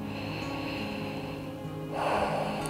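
Slow deep breathing during a gentle bedtime lower-body stretching routine, a steady inhale followed by a stronger, breathy exhale near the end over soft, sustained background music.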